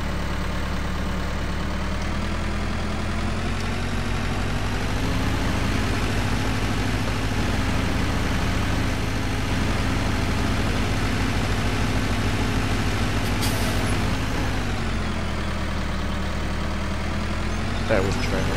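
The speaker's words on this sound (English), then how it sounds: "I take it for a little spin in this little John Deere here" A small John Deere tractor in a farming sim video game drives along with a steady, droning engine hum that holds a constant pitch throughout, close and continuous, with voices briefly under it.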